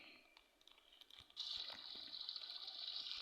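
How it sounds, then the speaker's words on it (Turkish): Tap water runs while someone washes their hands indoors: a faint trickle that swells into a steady, hissing stream, close by and continuous with no talking. "Ellerimi yıkayayım bari."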